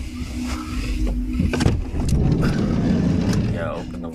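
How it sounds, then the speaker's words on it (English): At night near a campsite, a car drives about and revs, its engine rising and swelling nearby while people talk close by over it. "There's a car pissing about up there."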